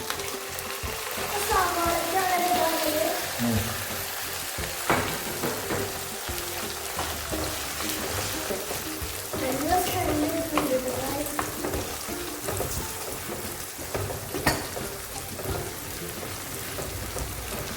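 Small onions frying in a pan for a traditional Kerala chicken curry, a dense, rain-like sizzle with occasional stirring scrapes and pops, close and steady throughout.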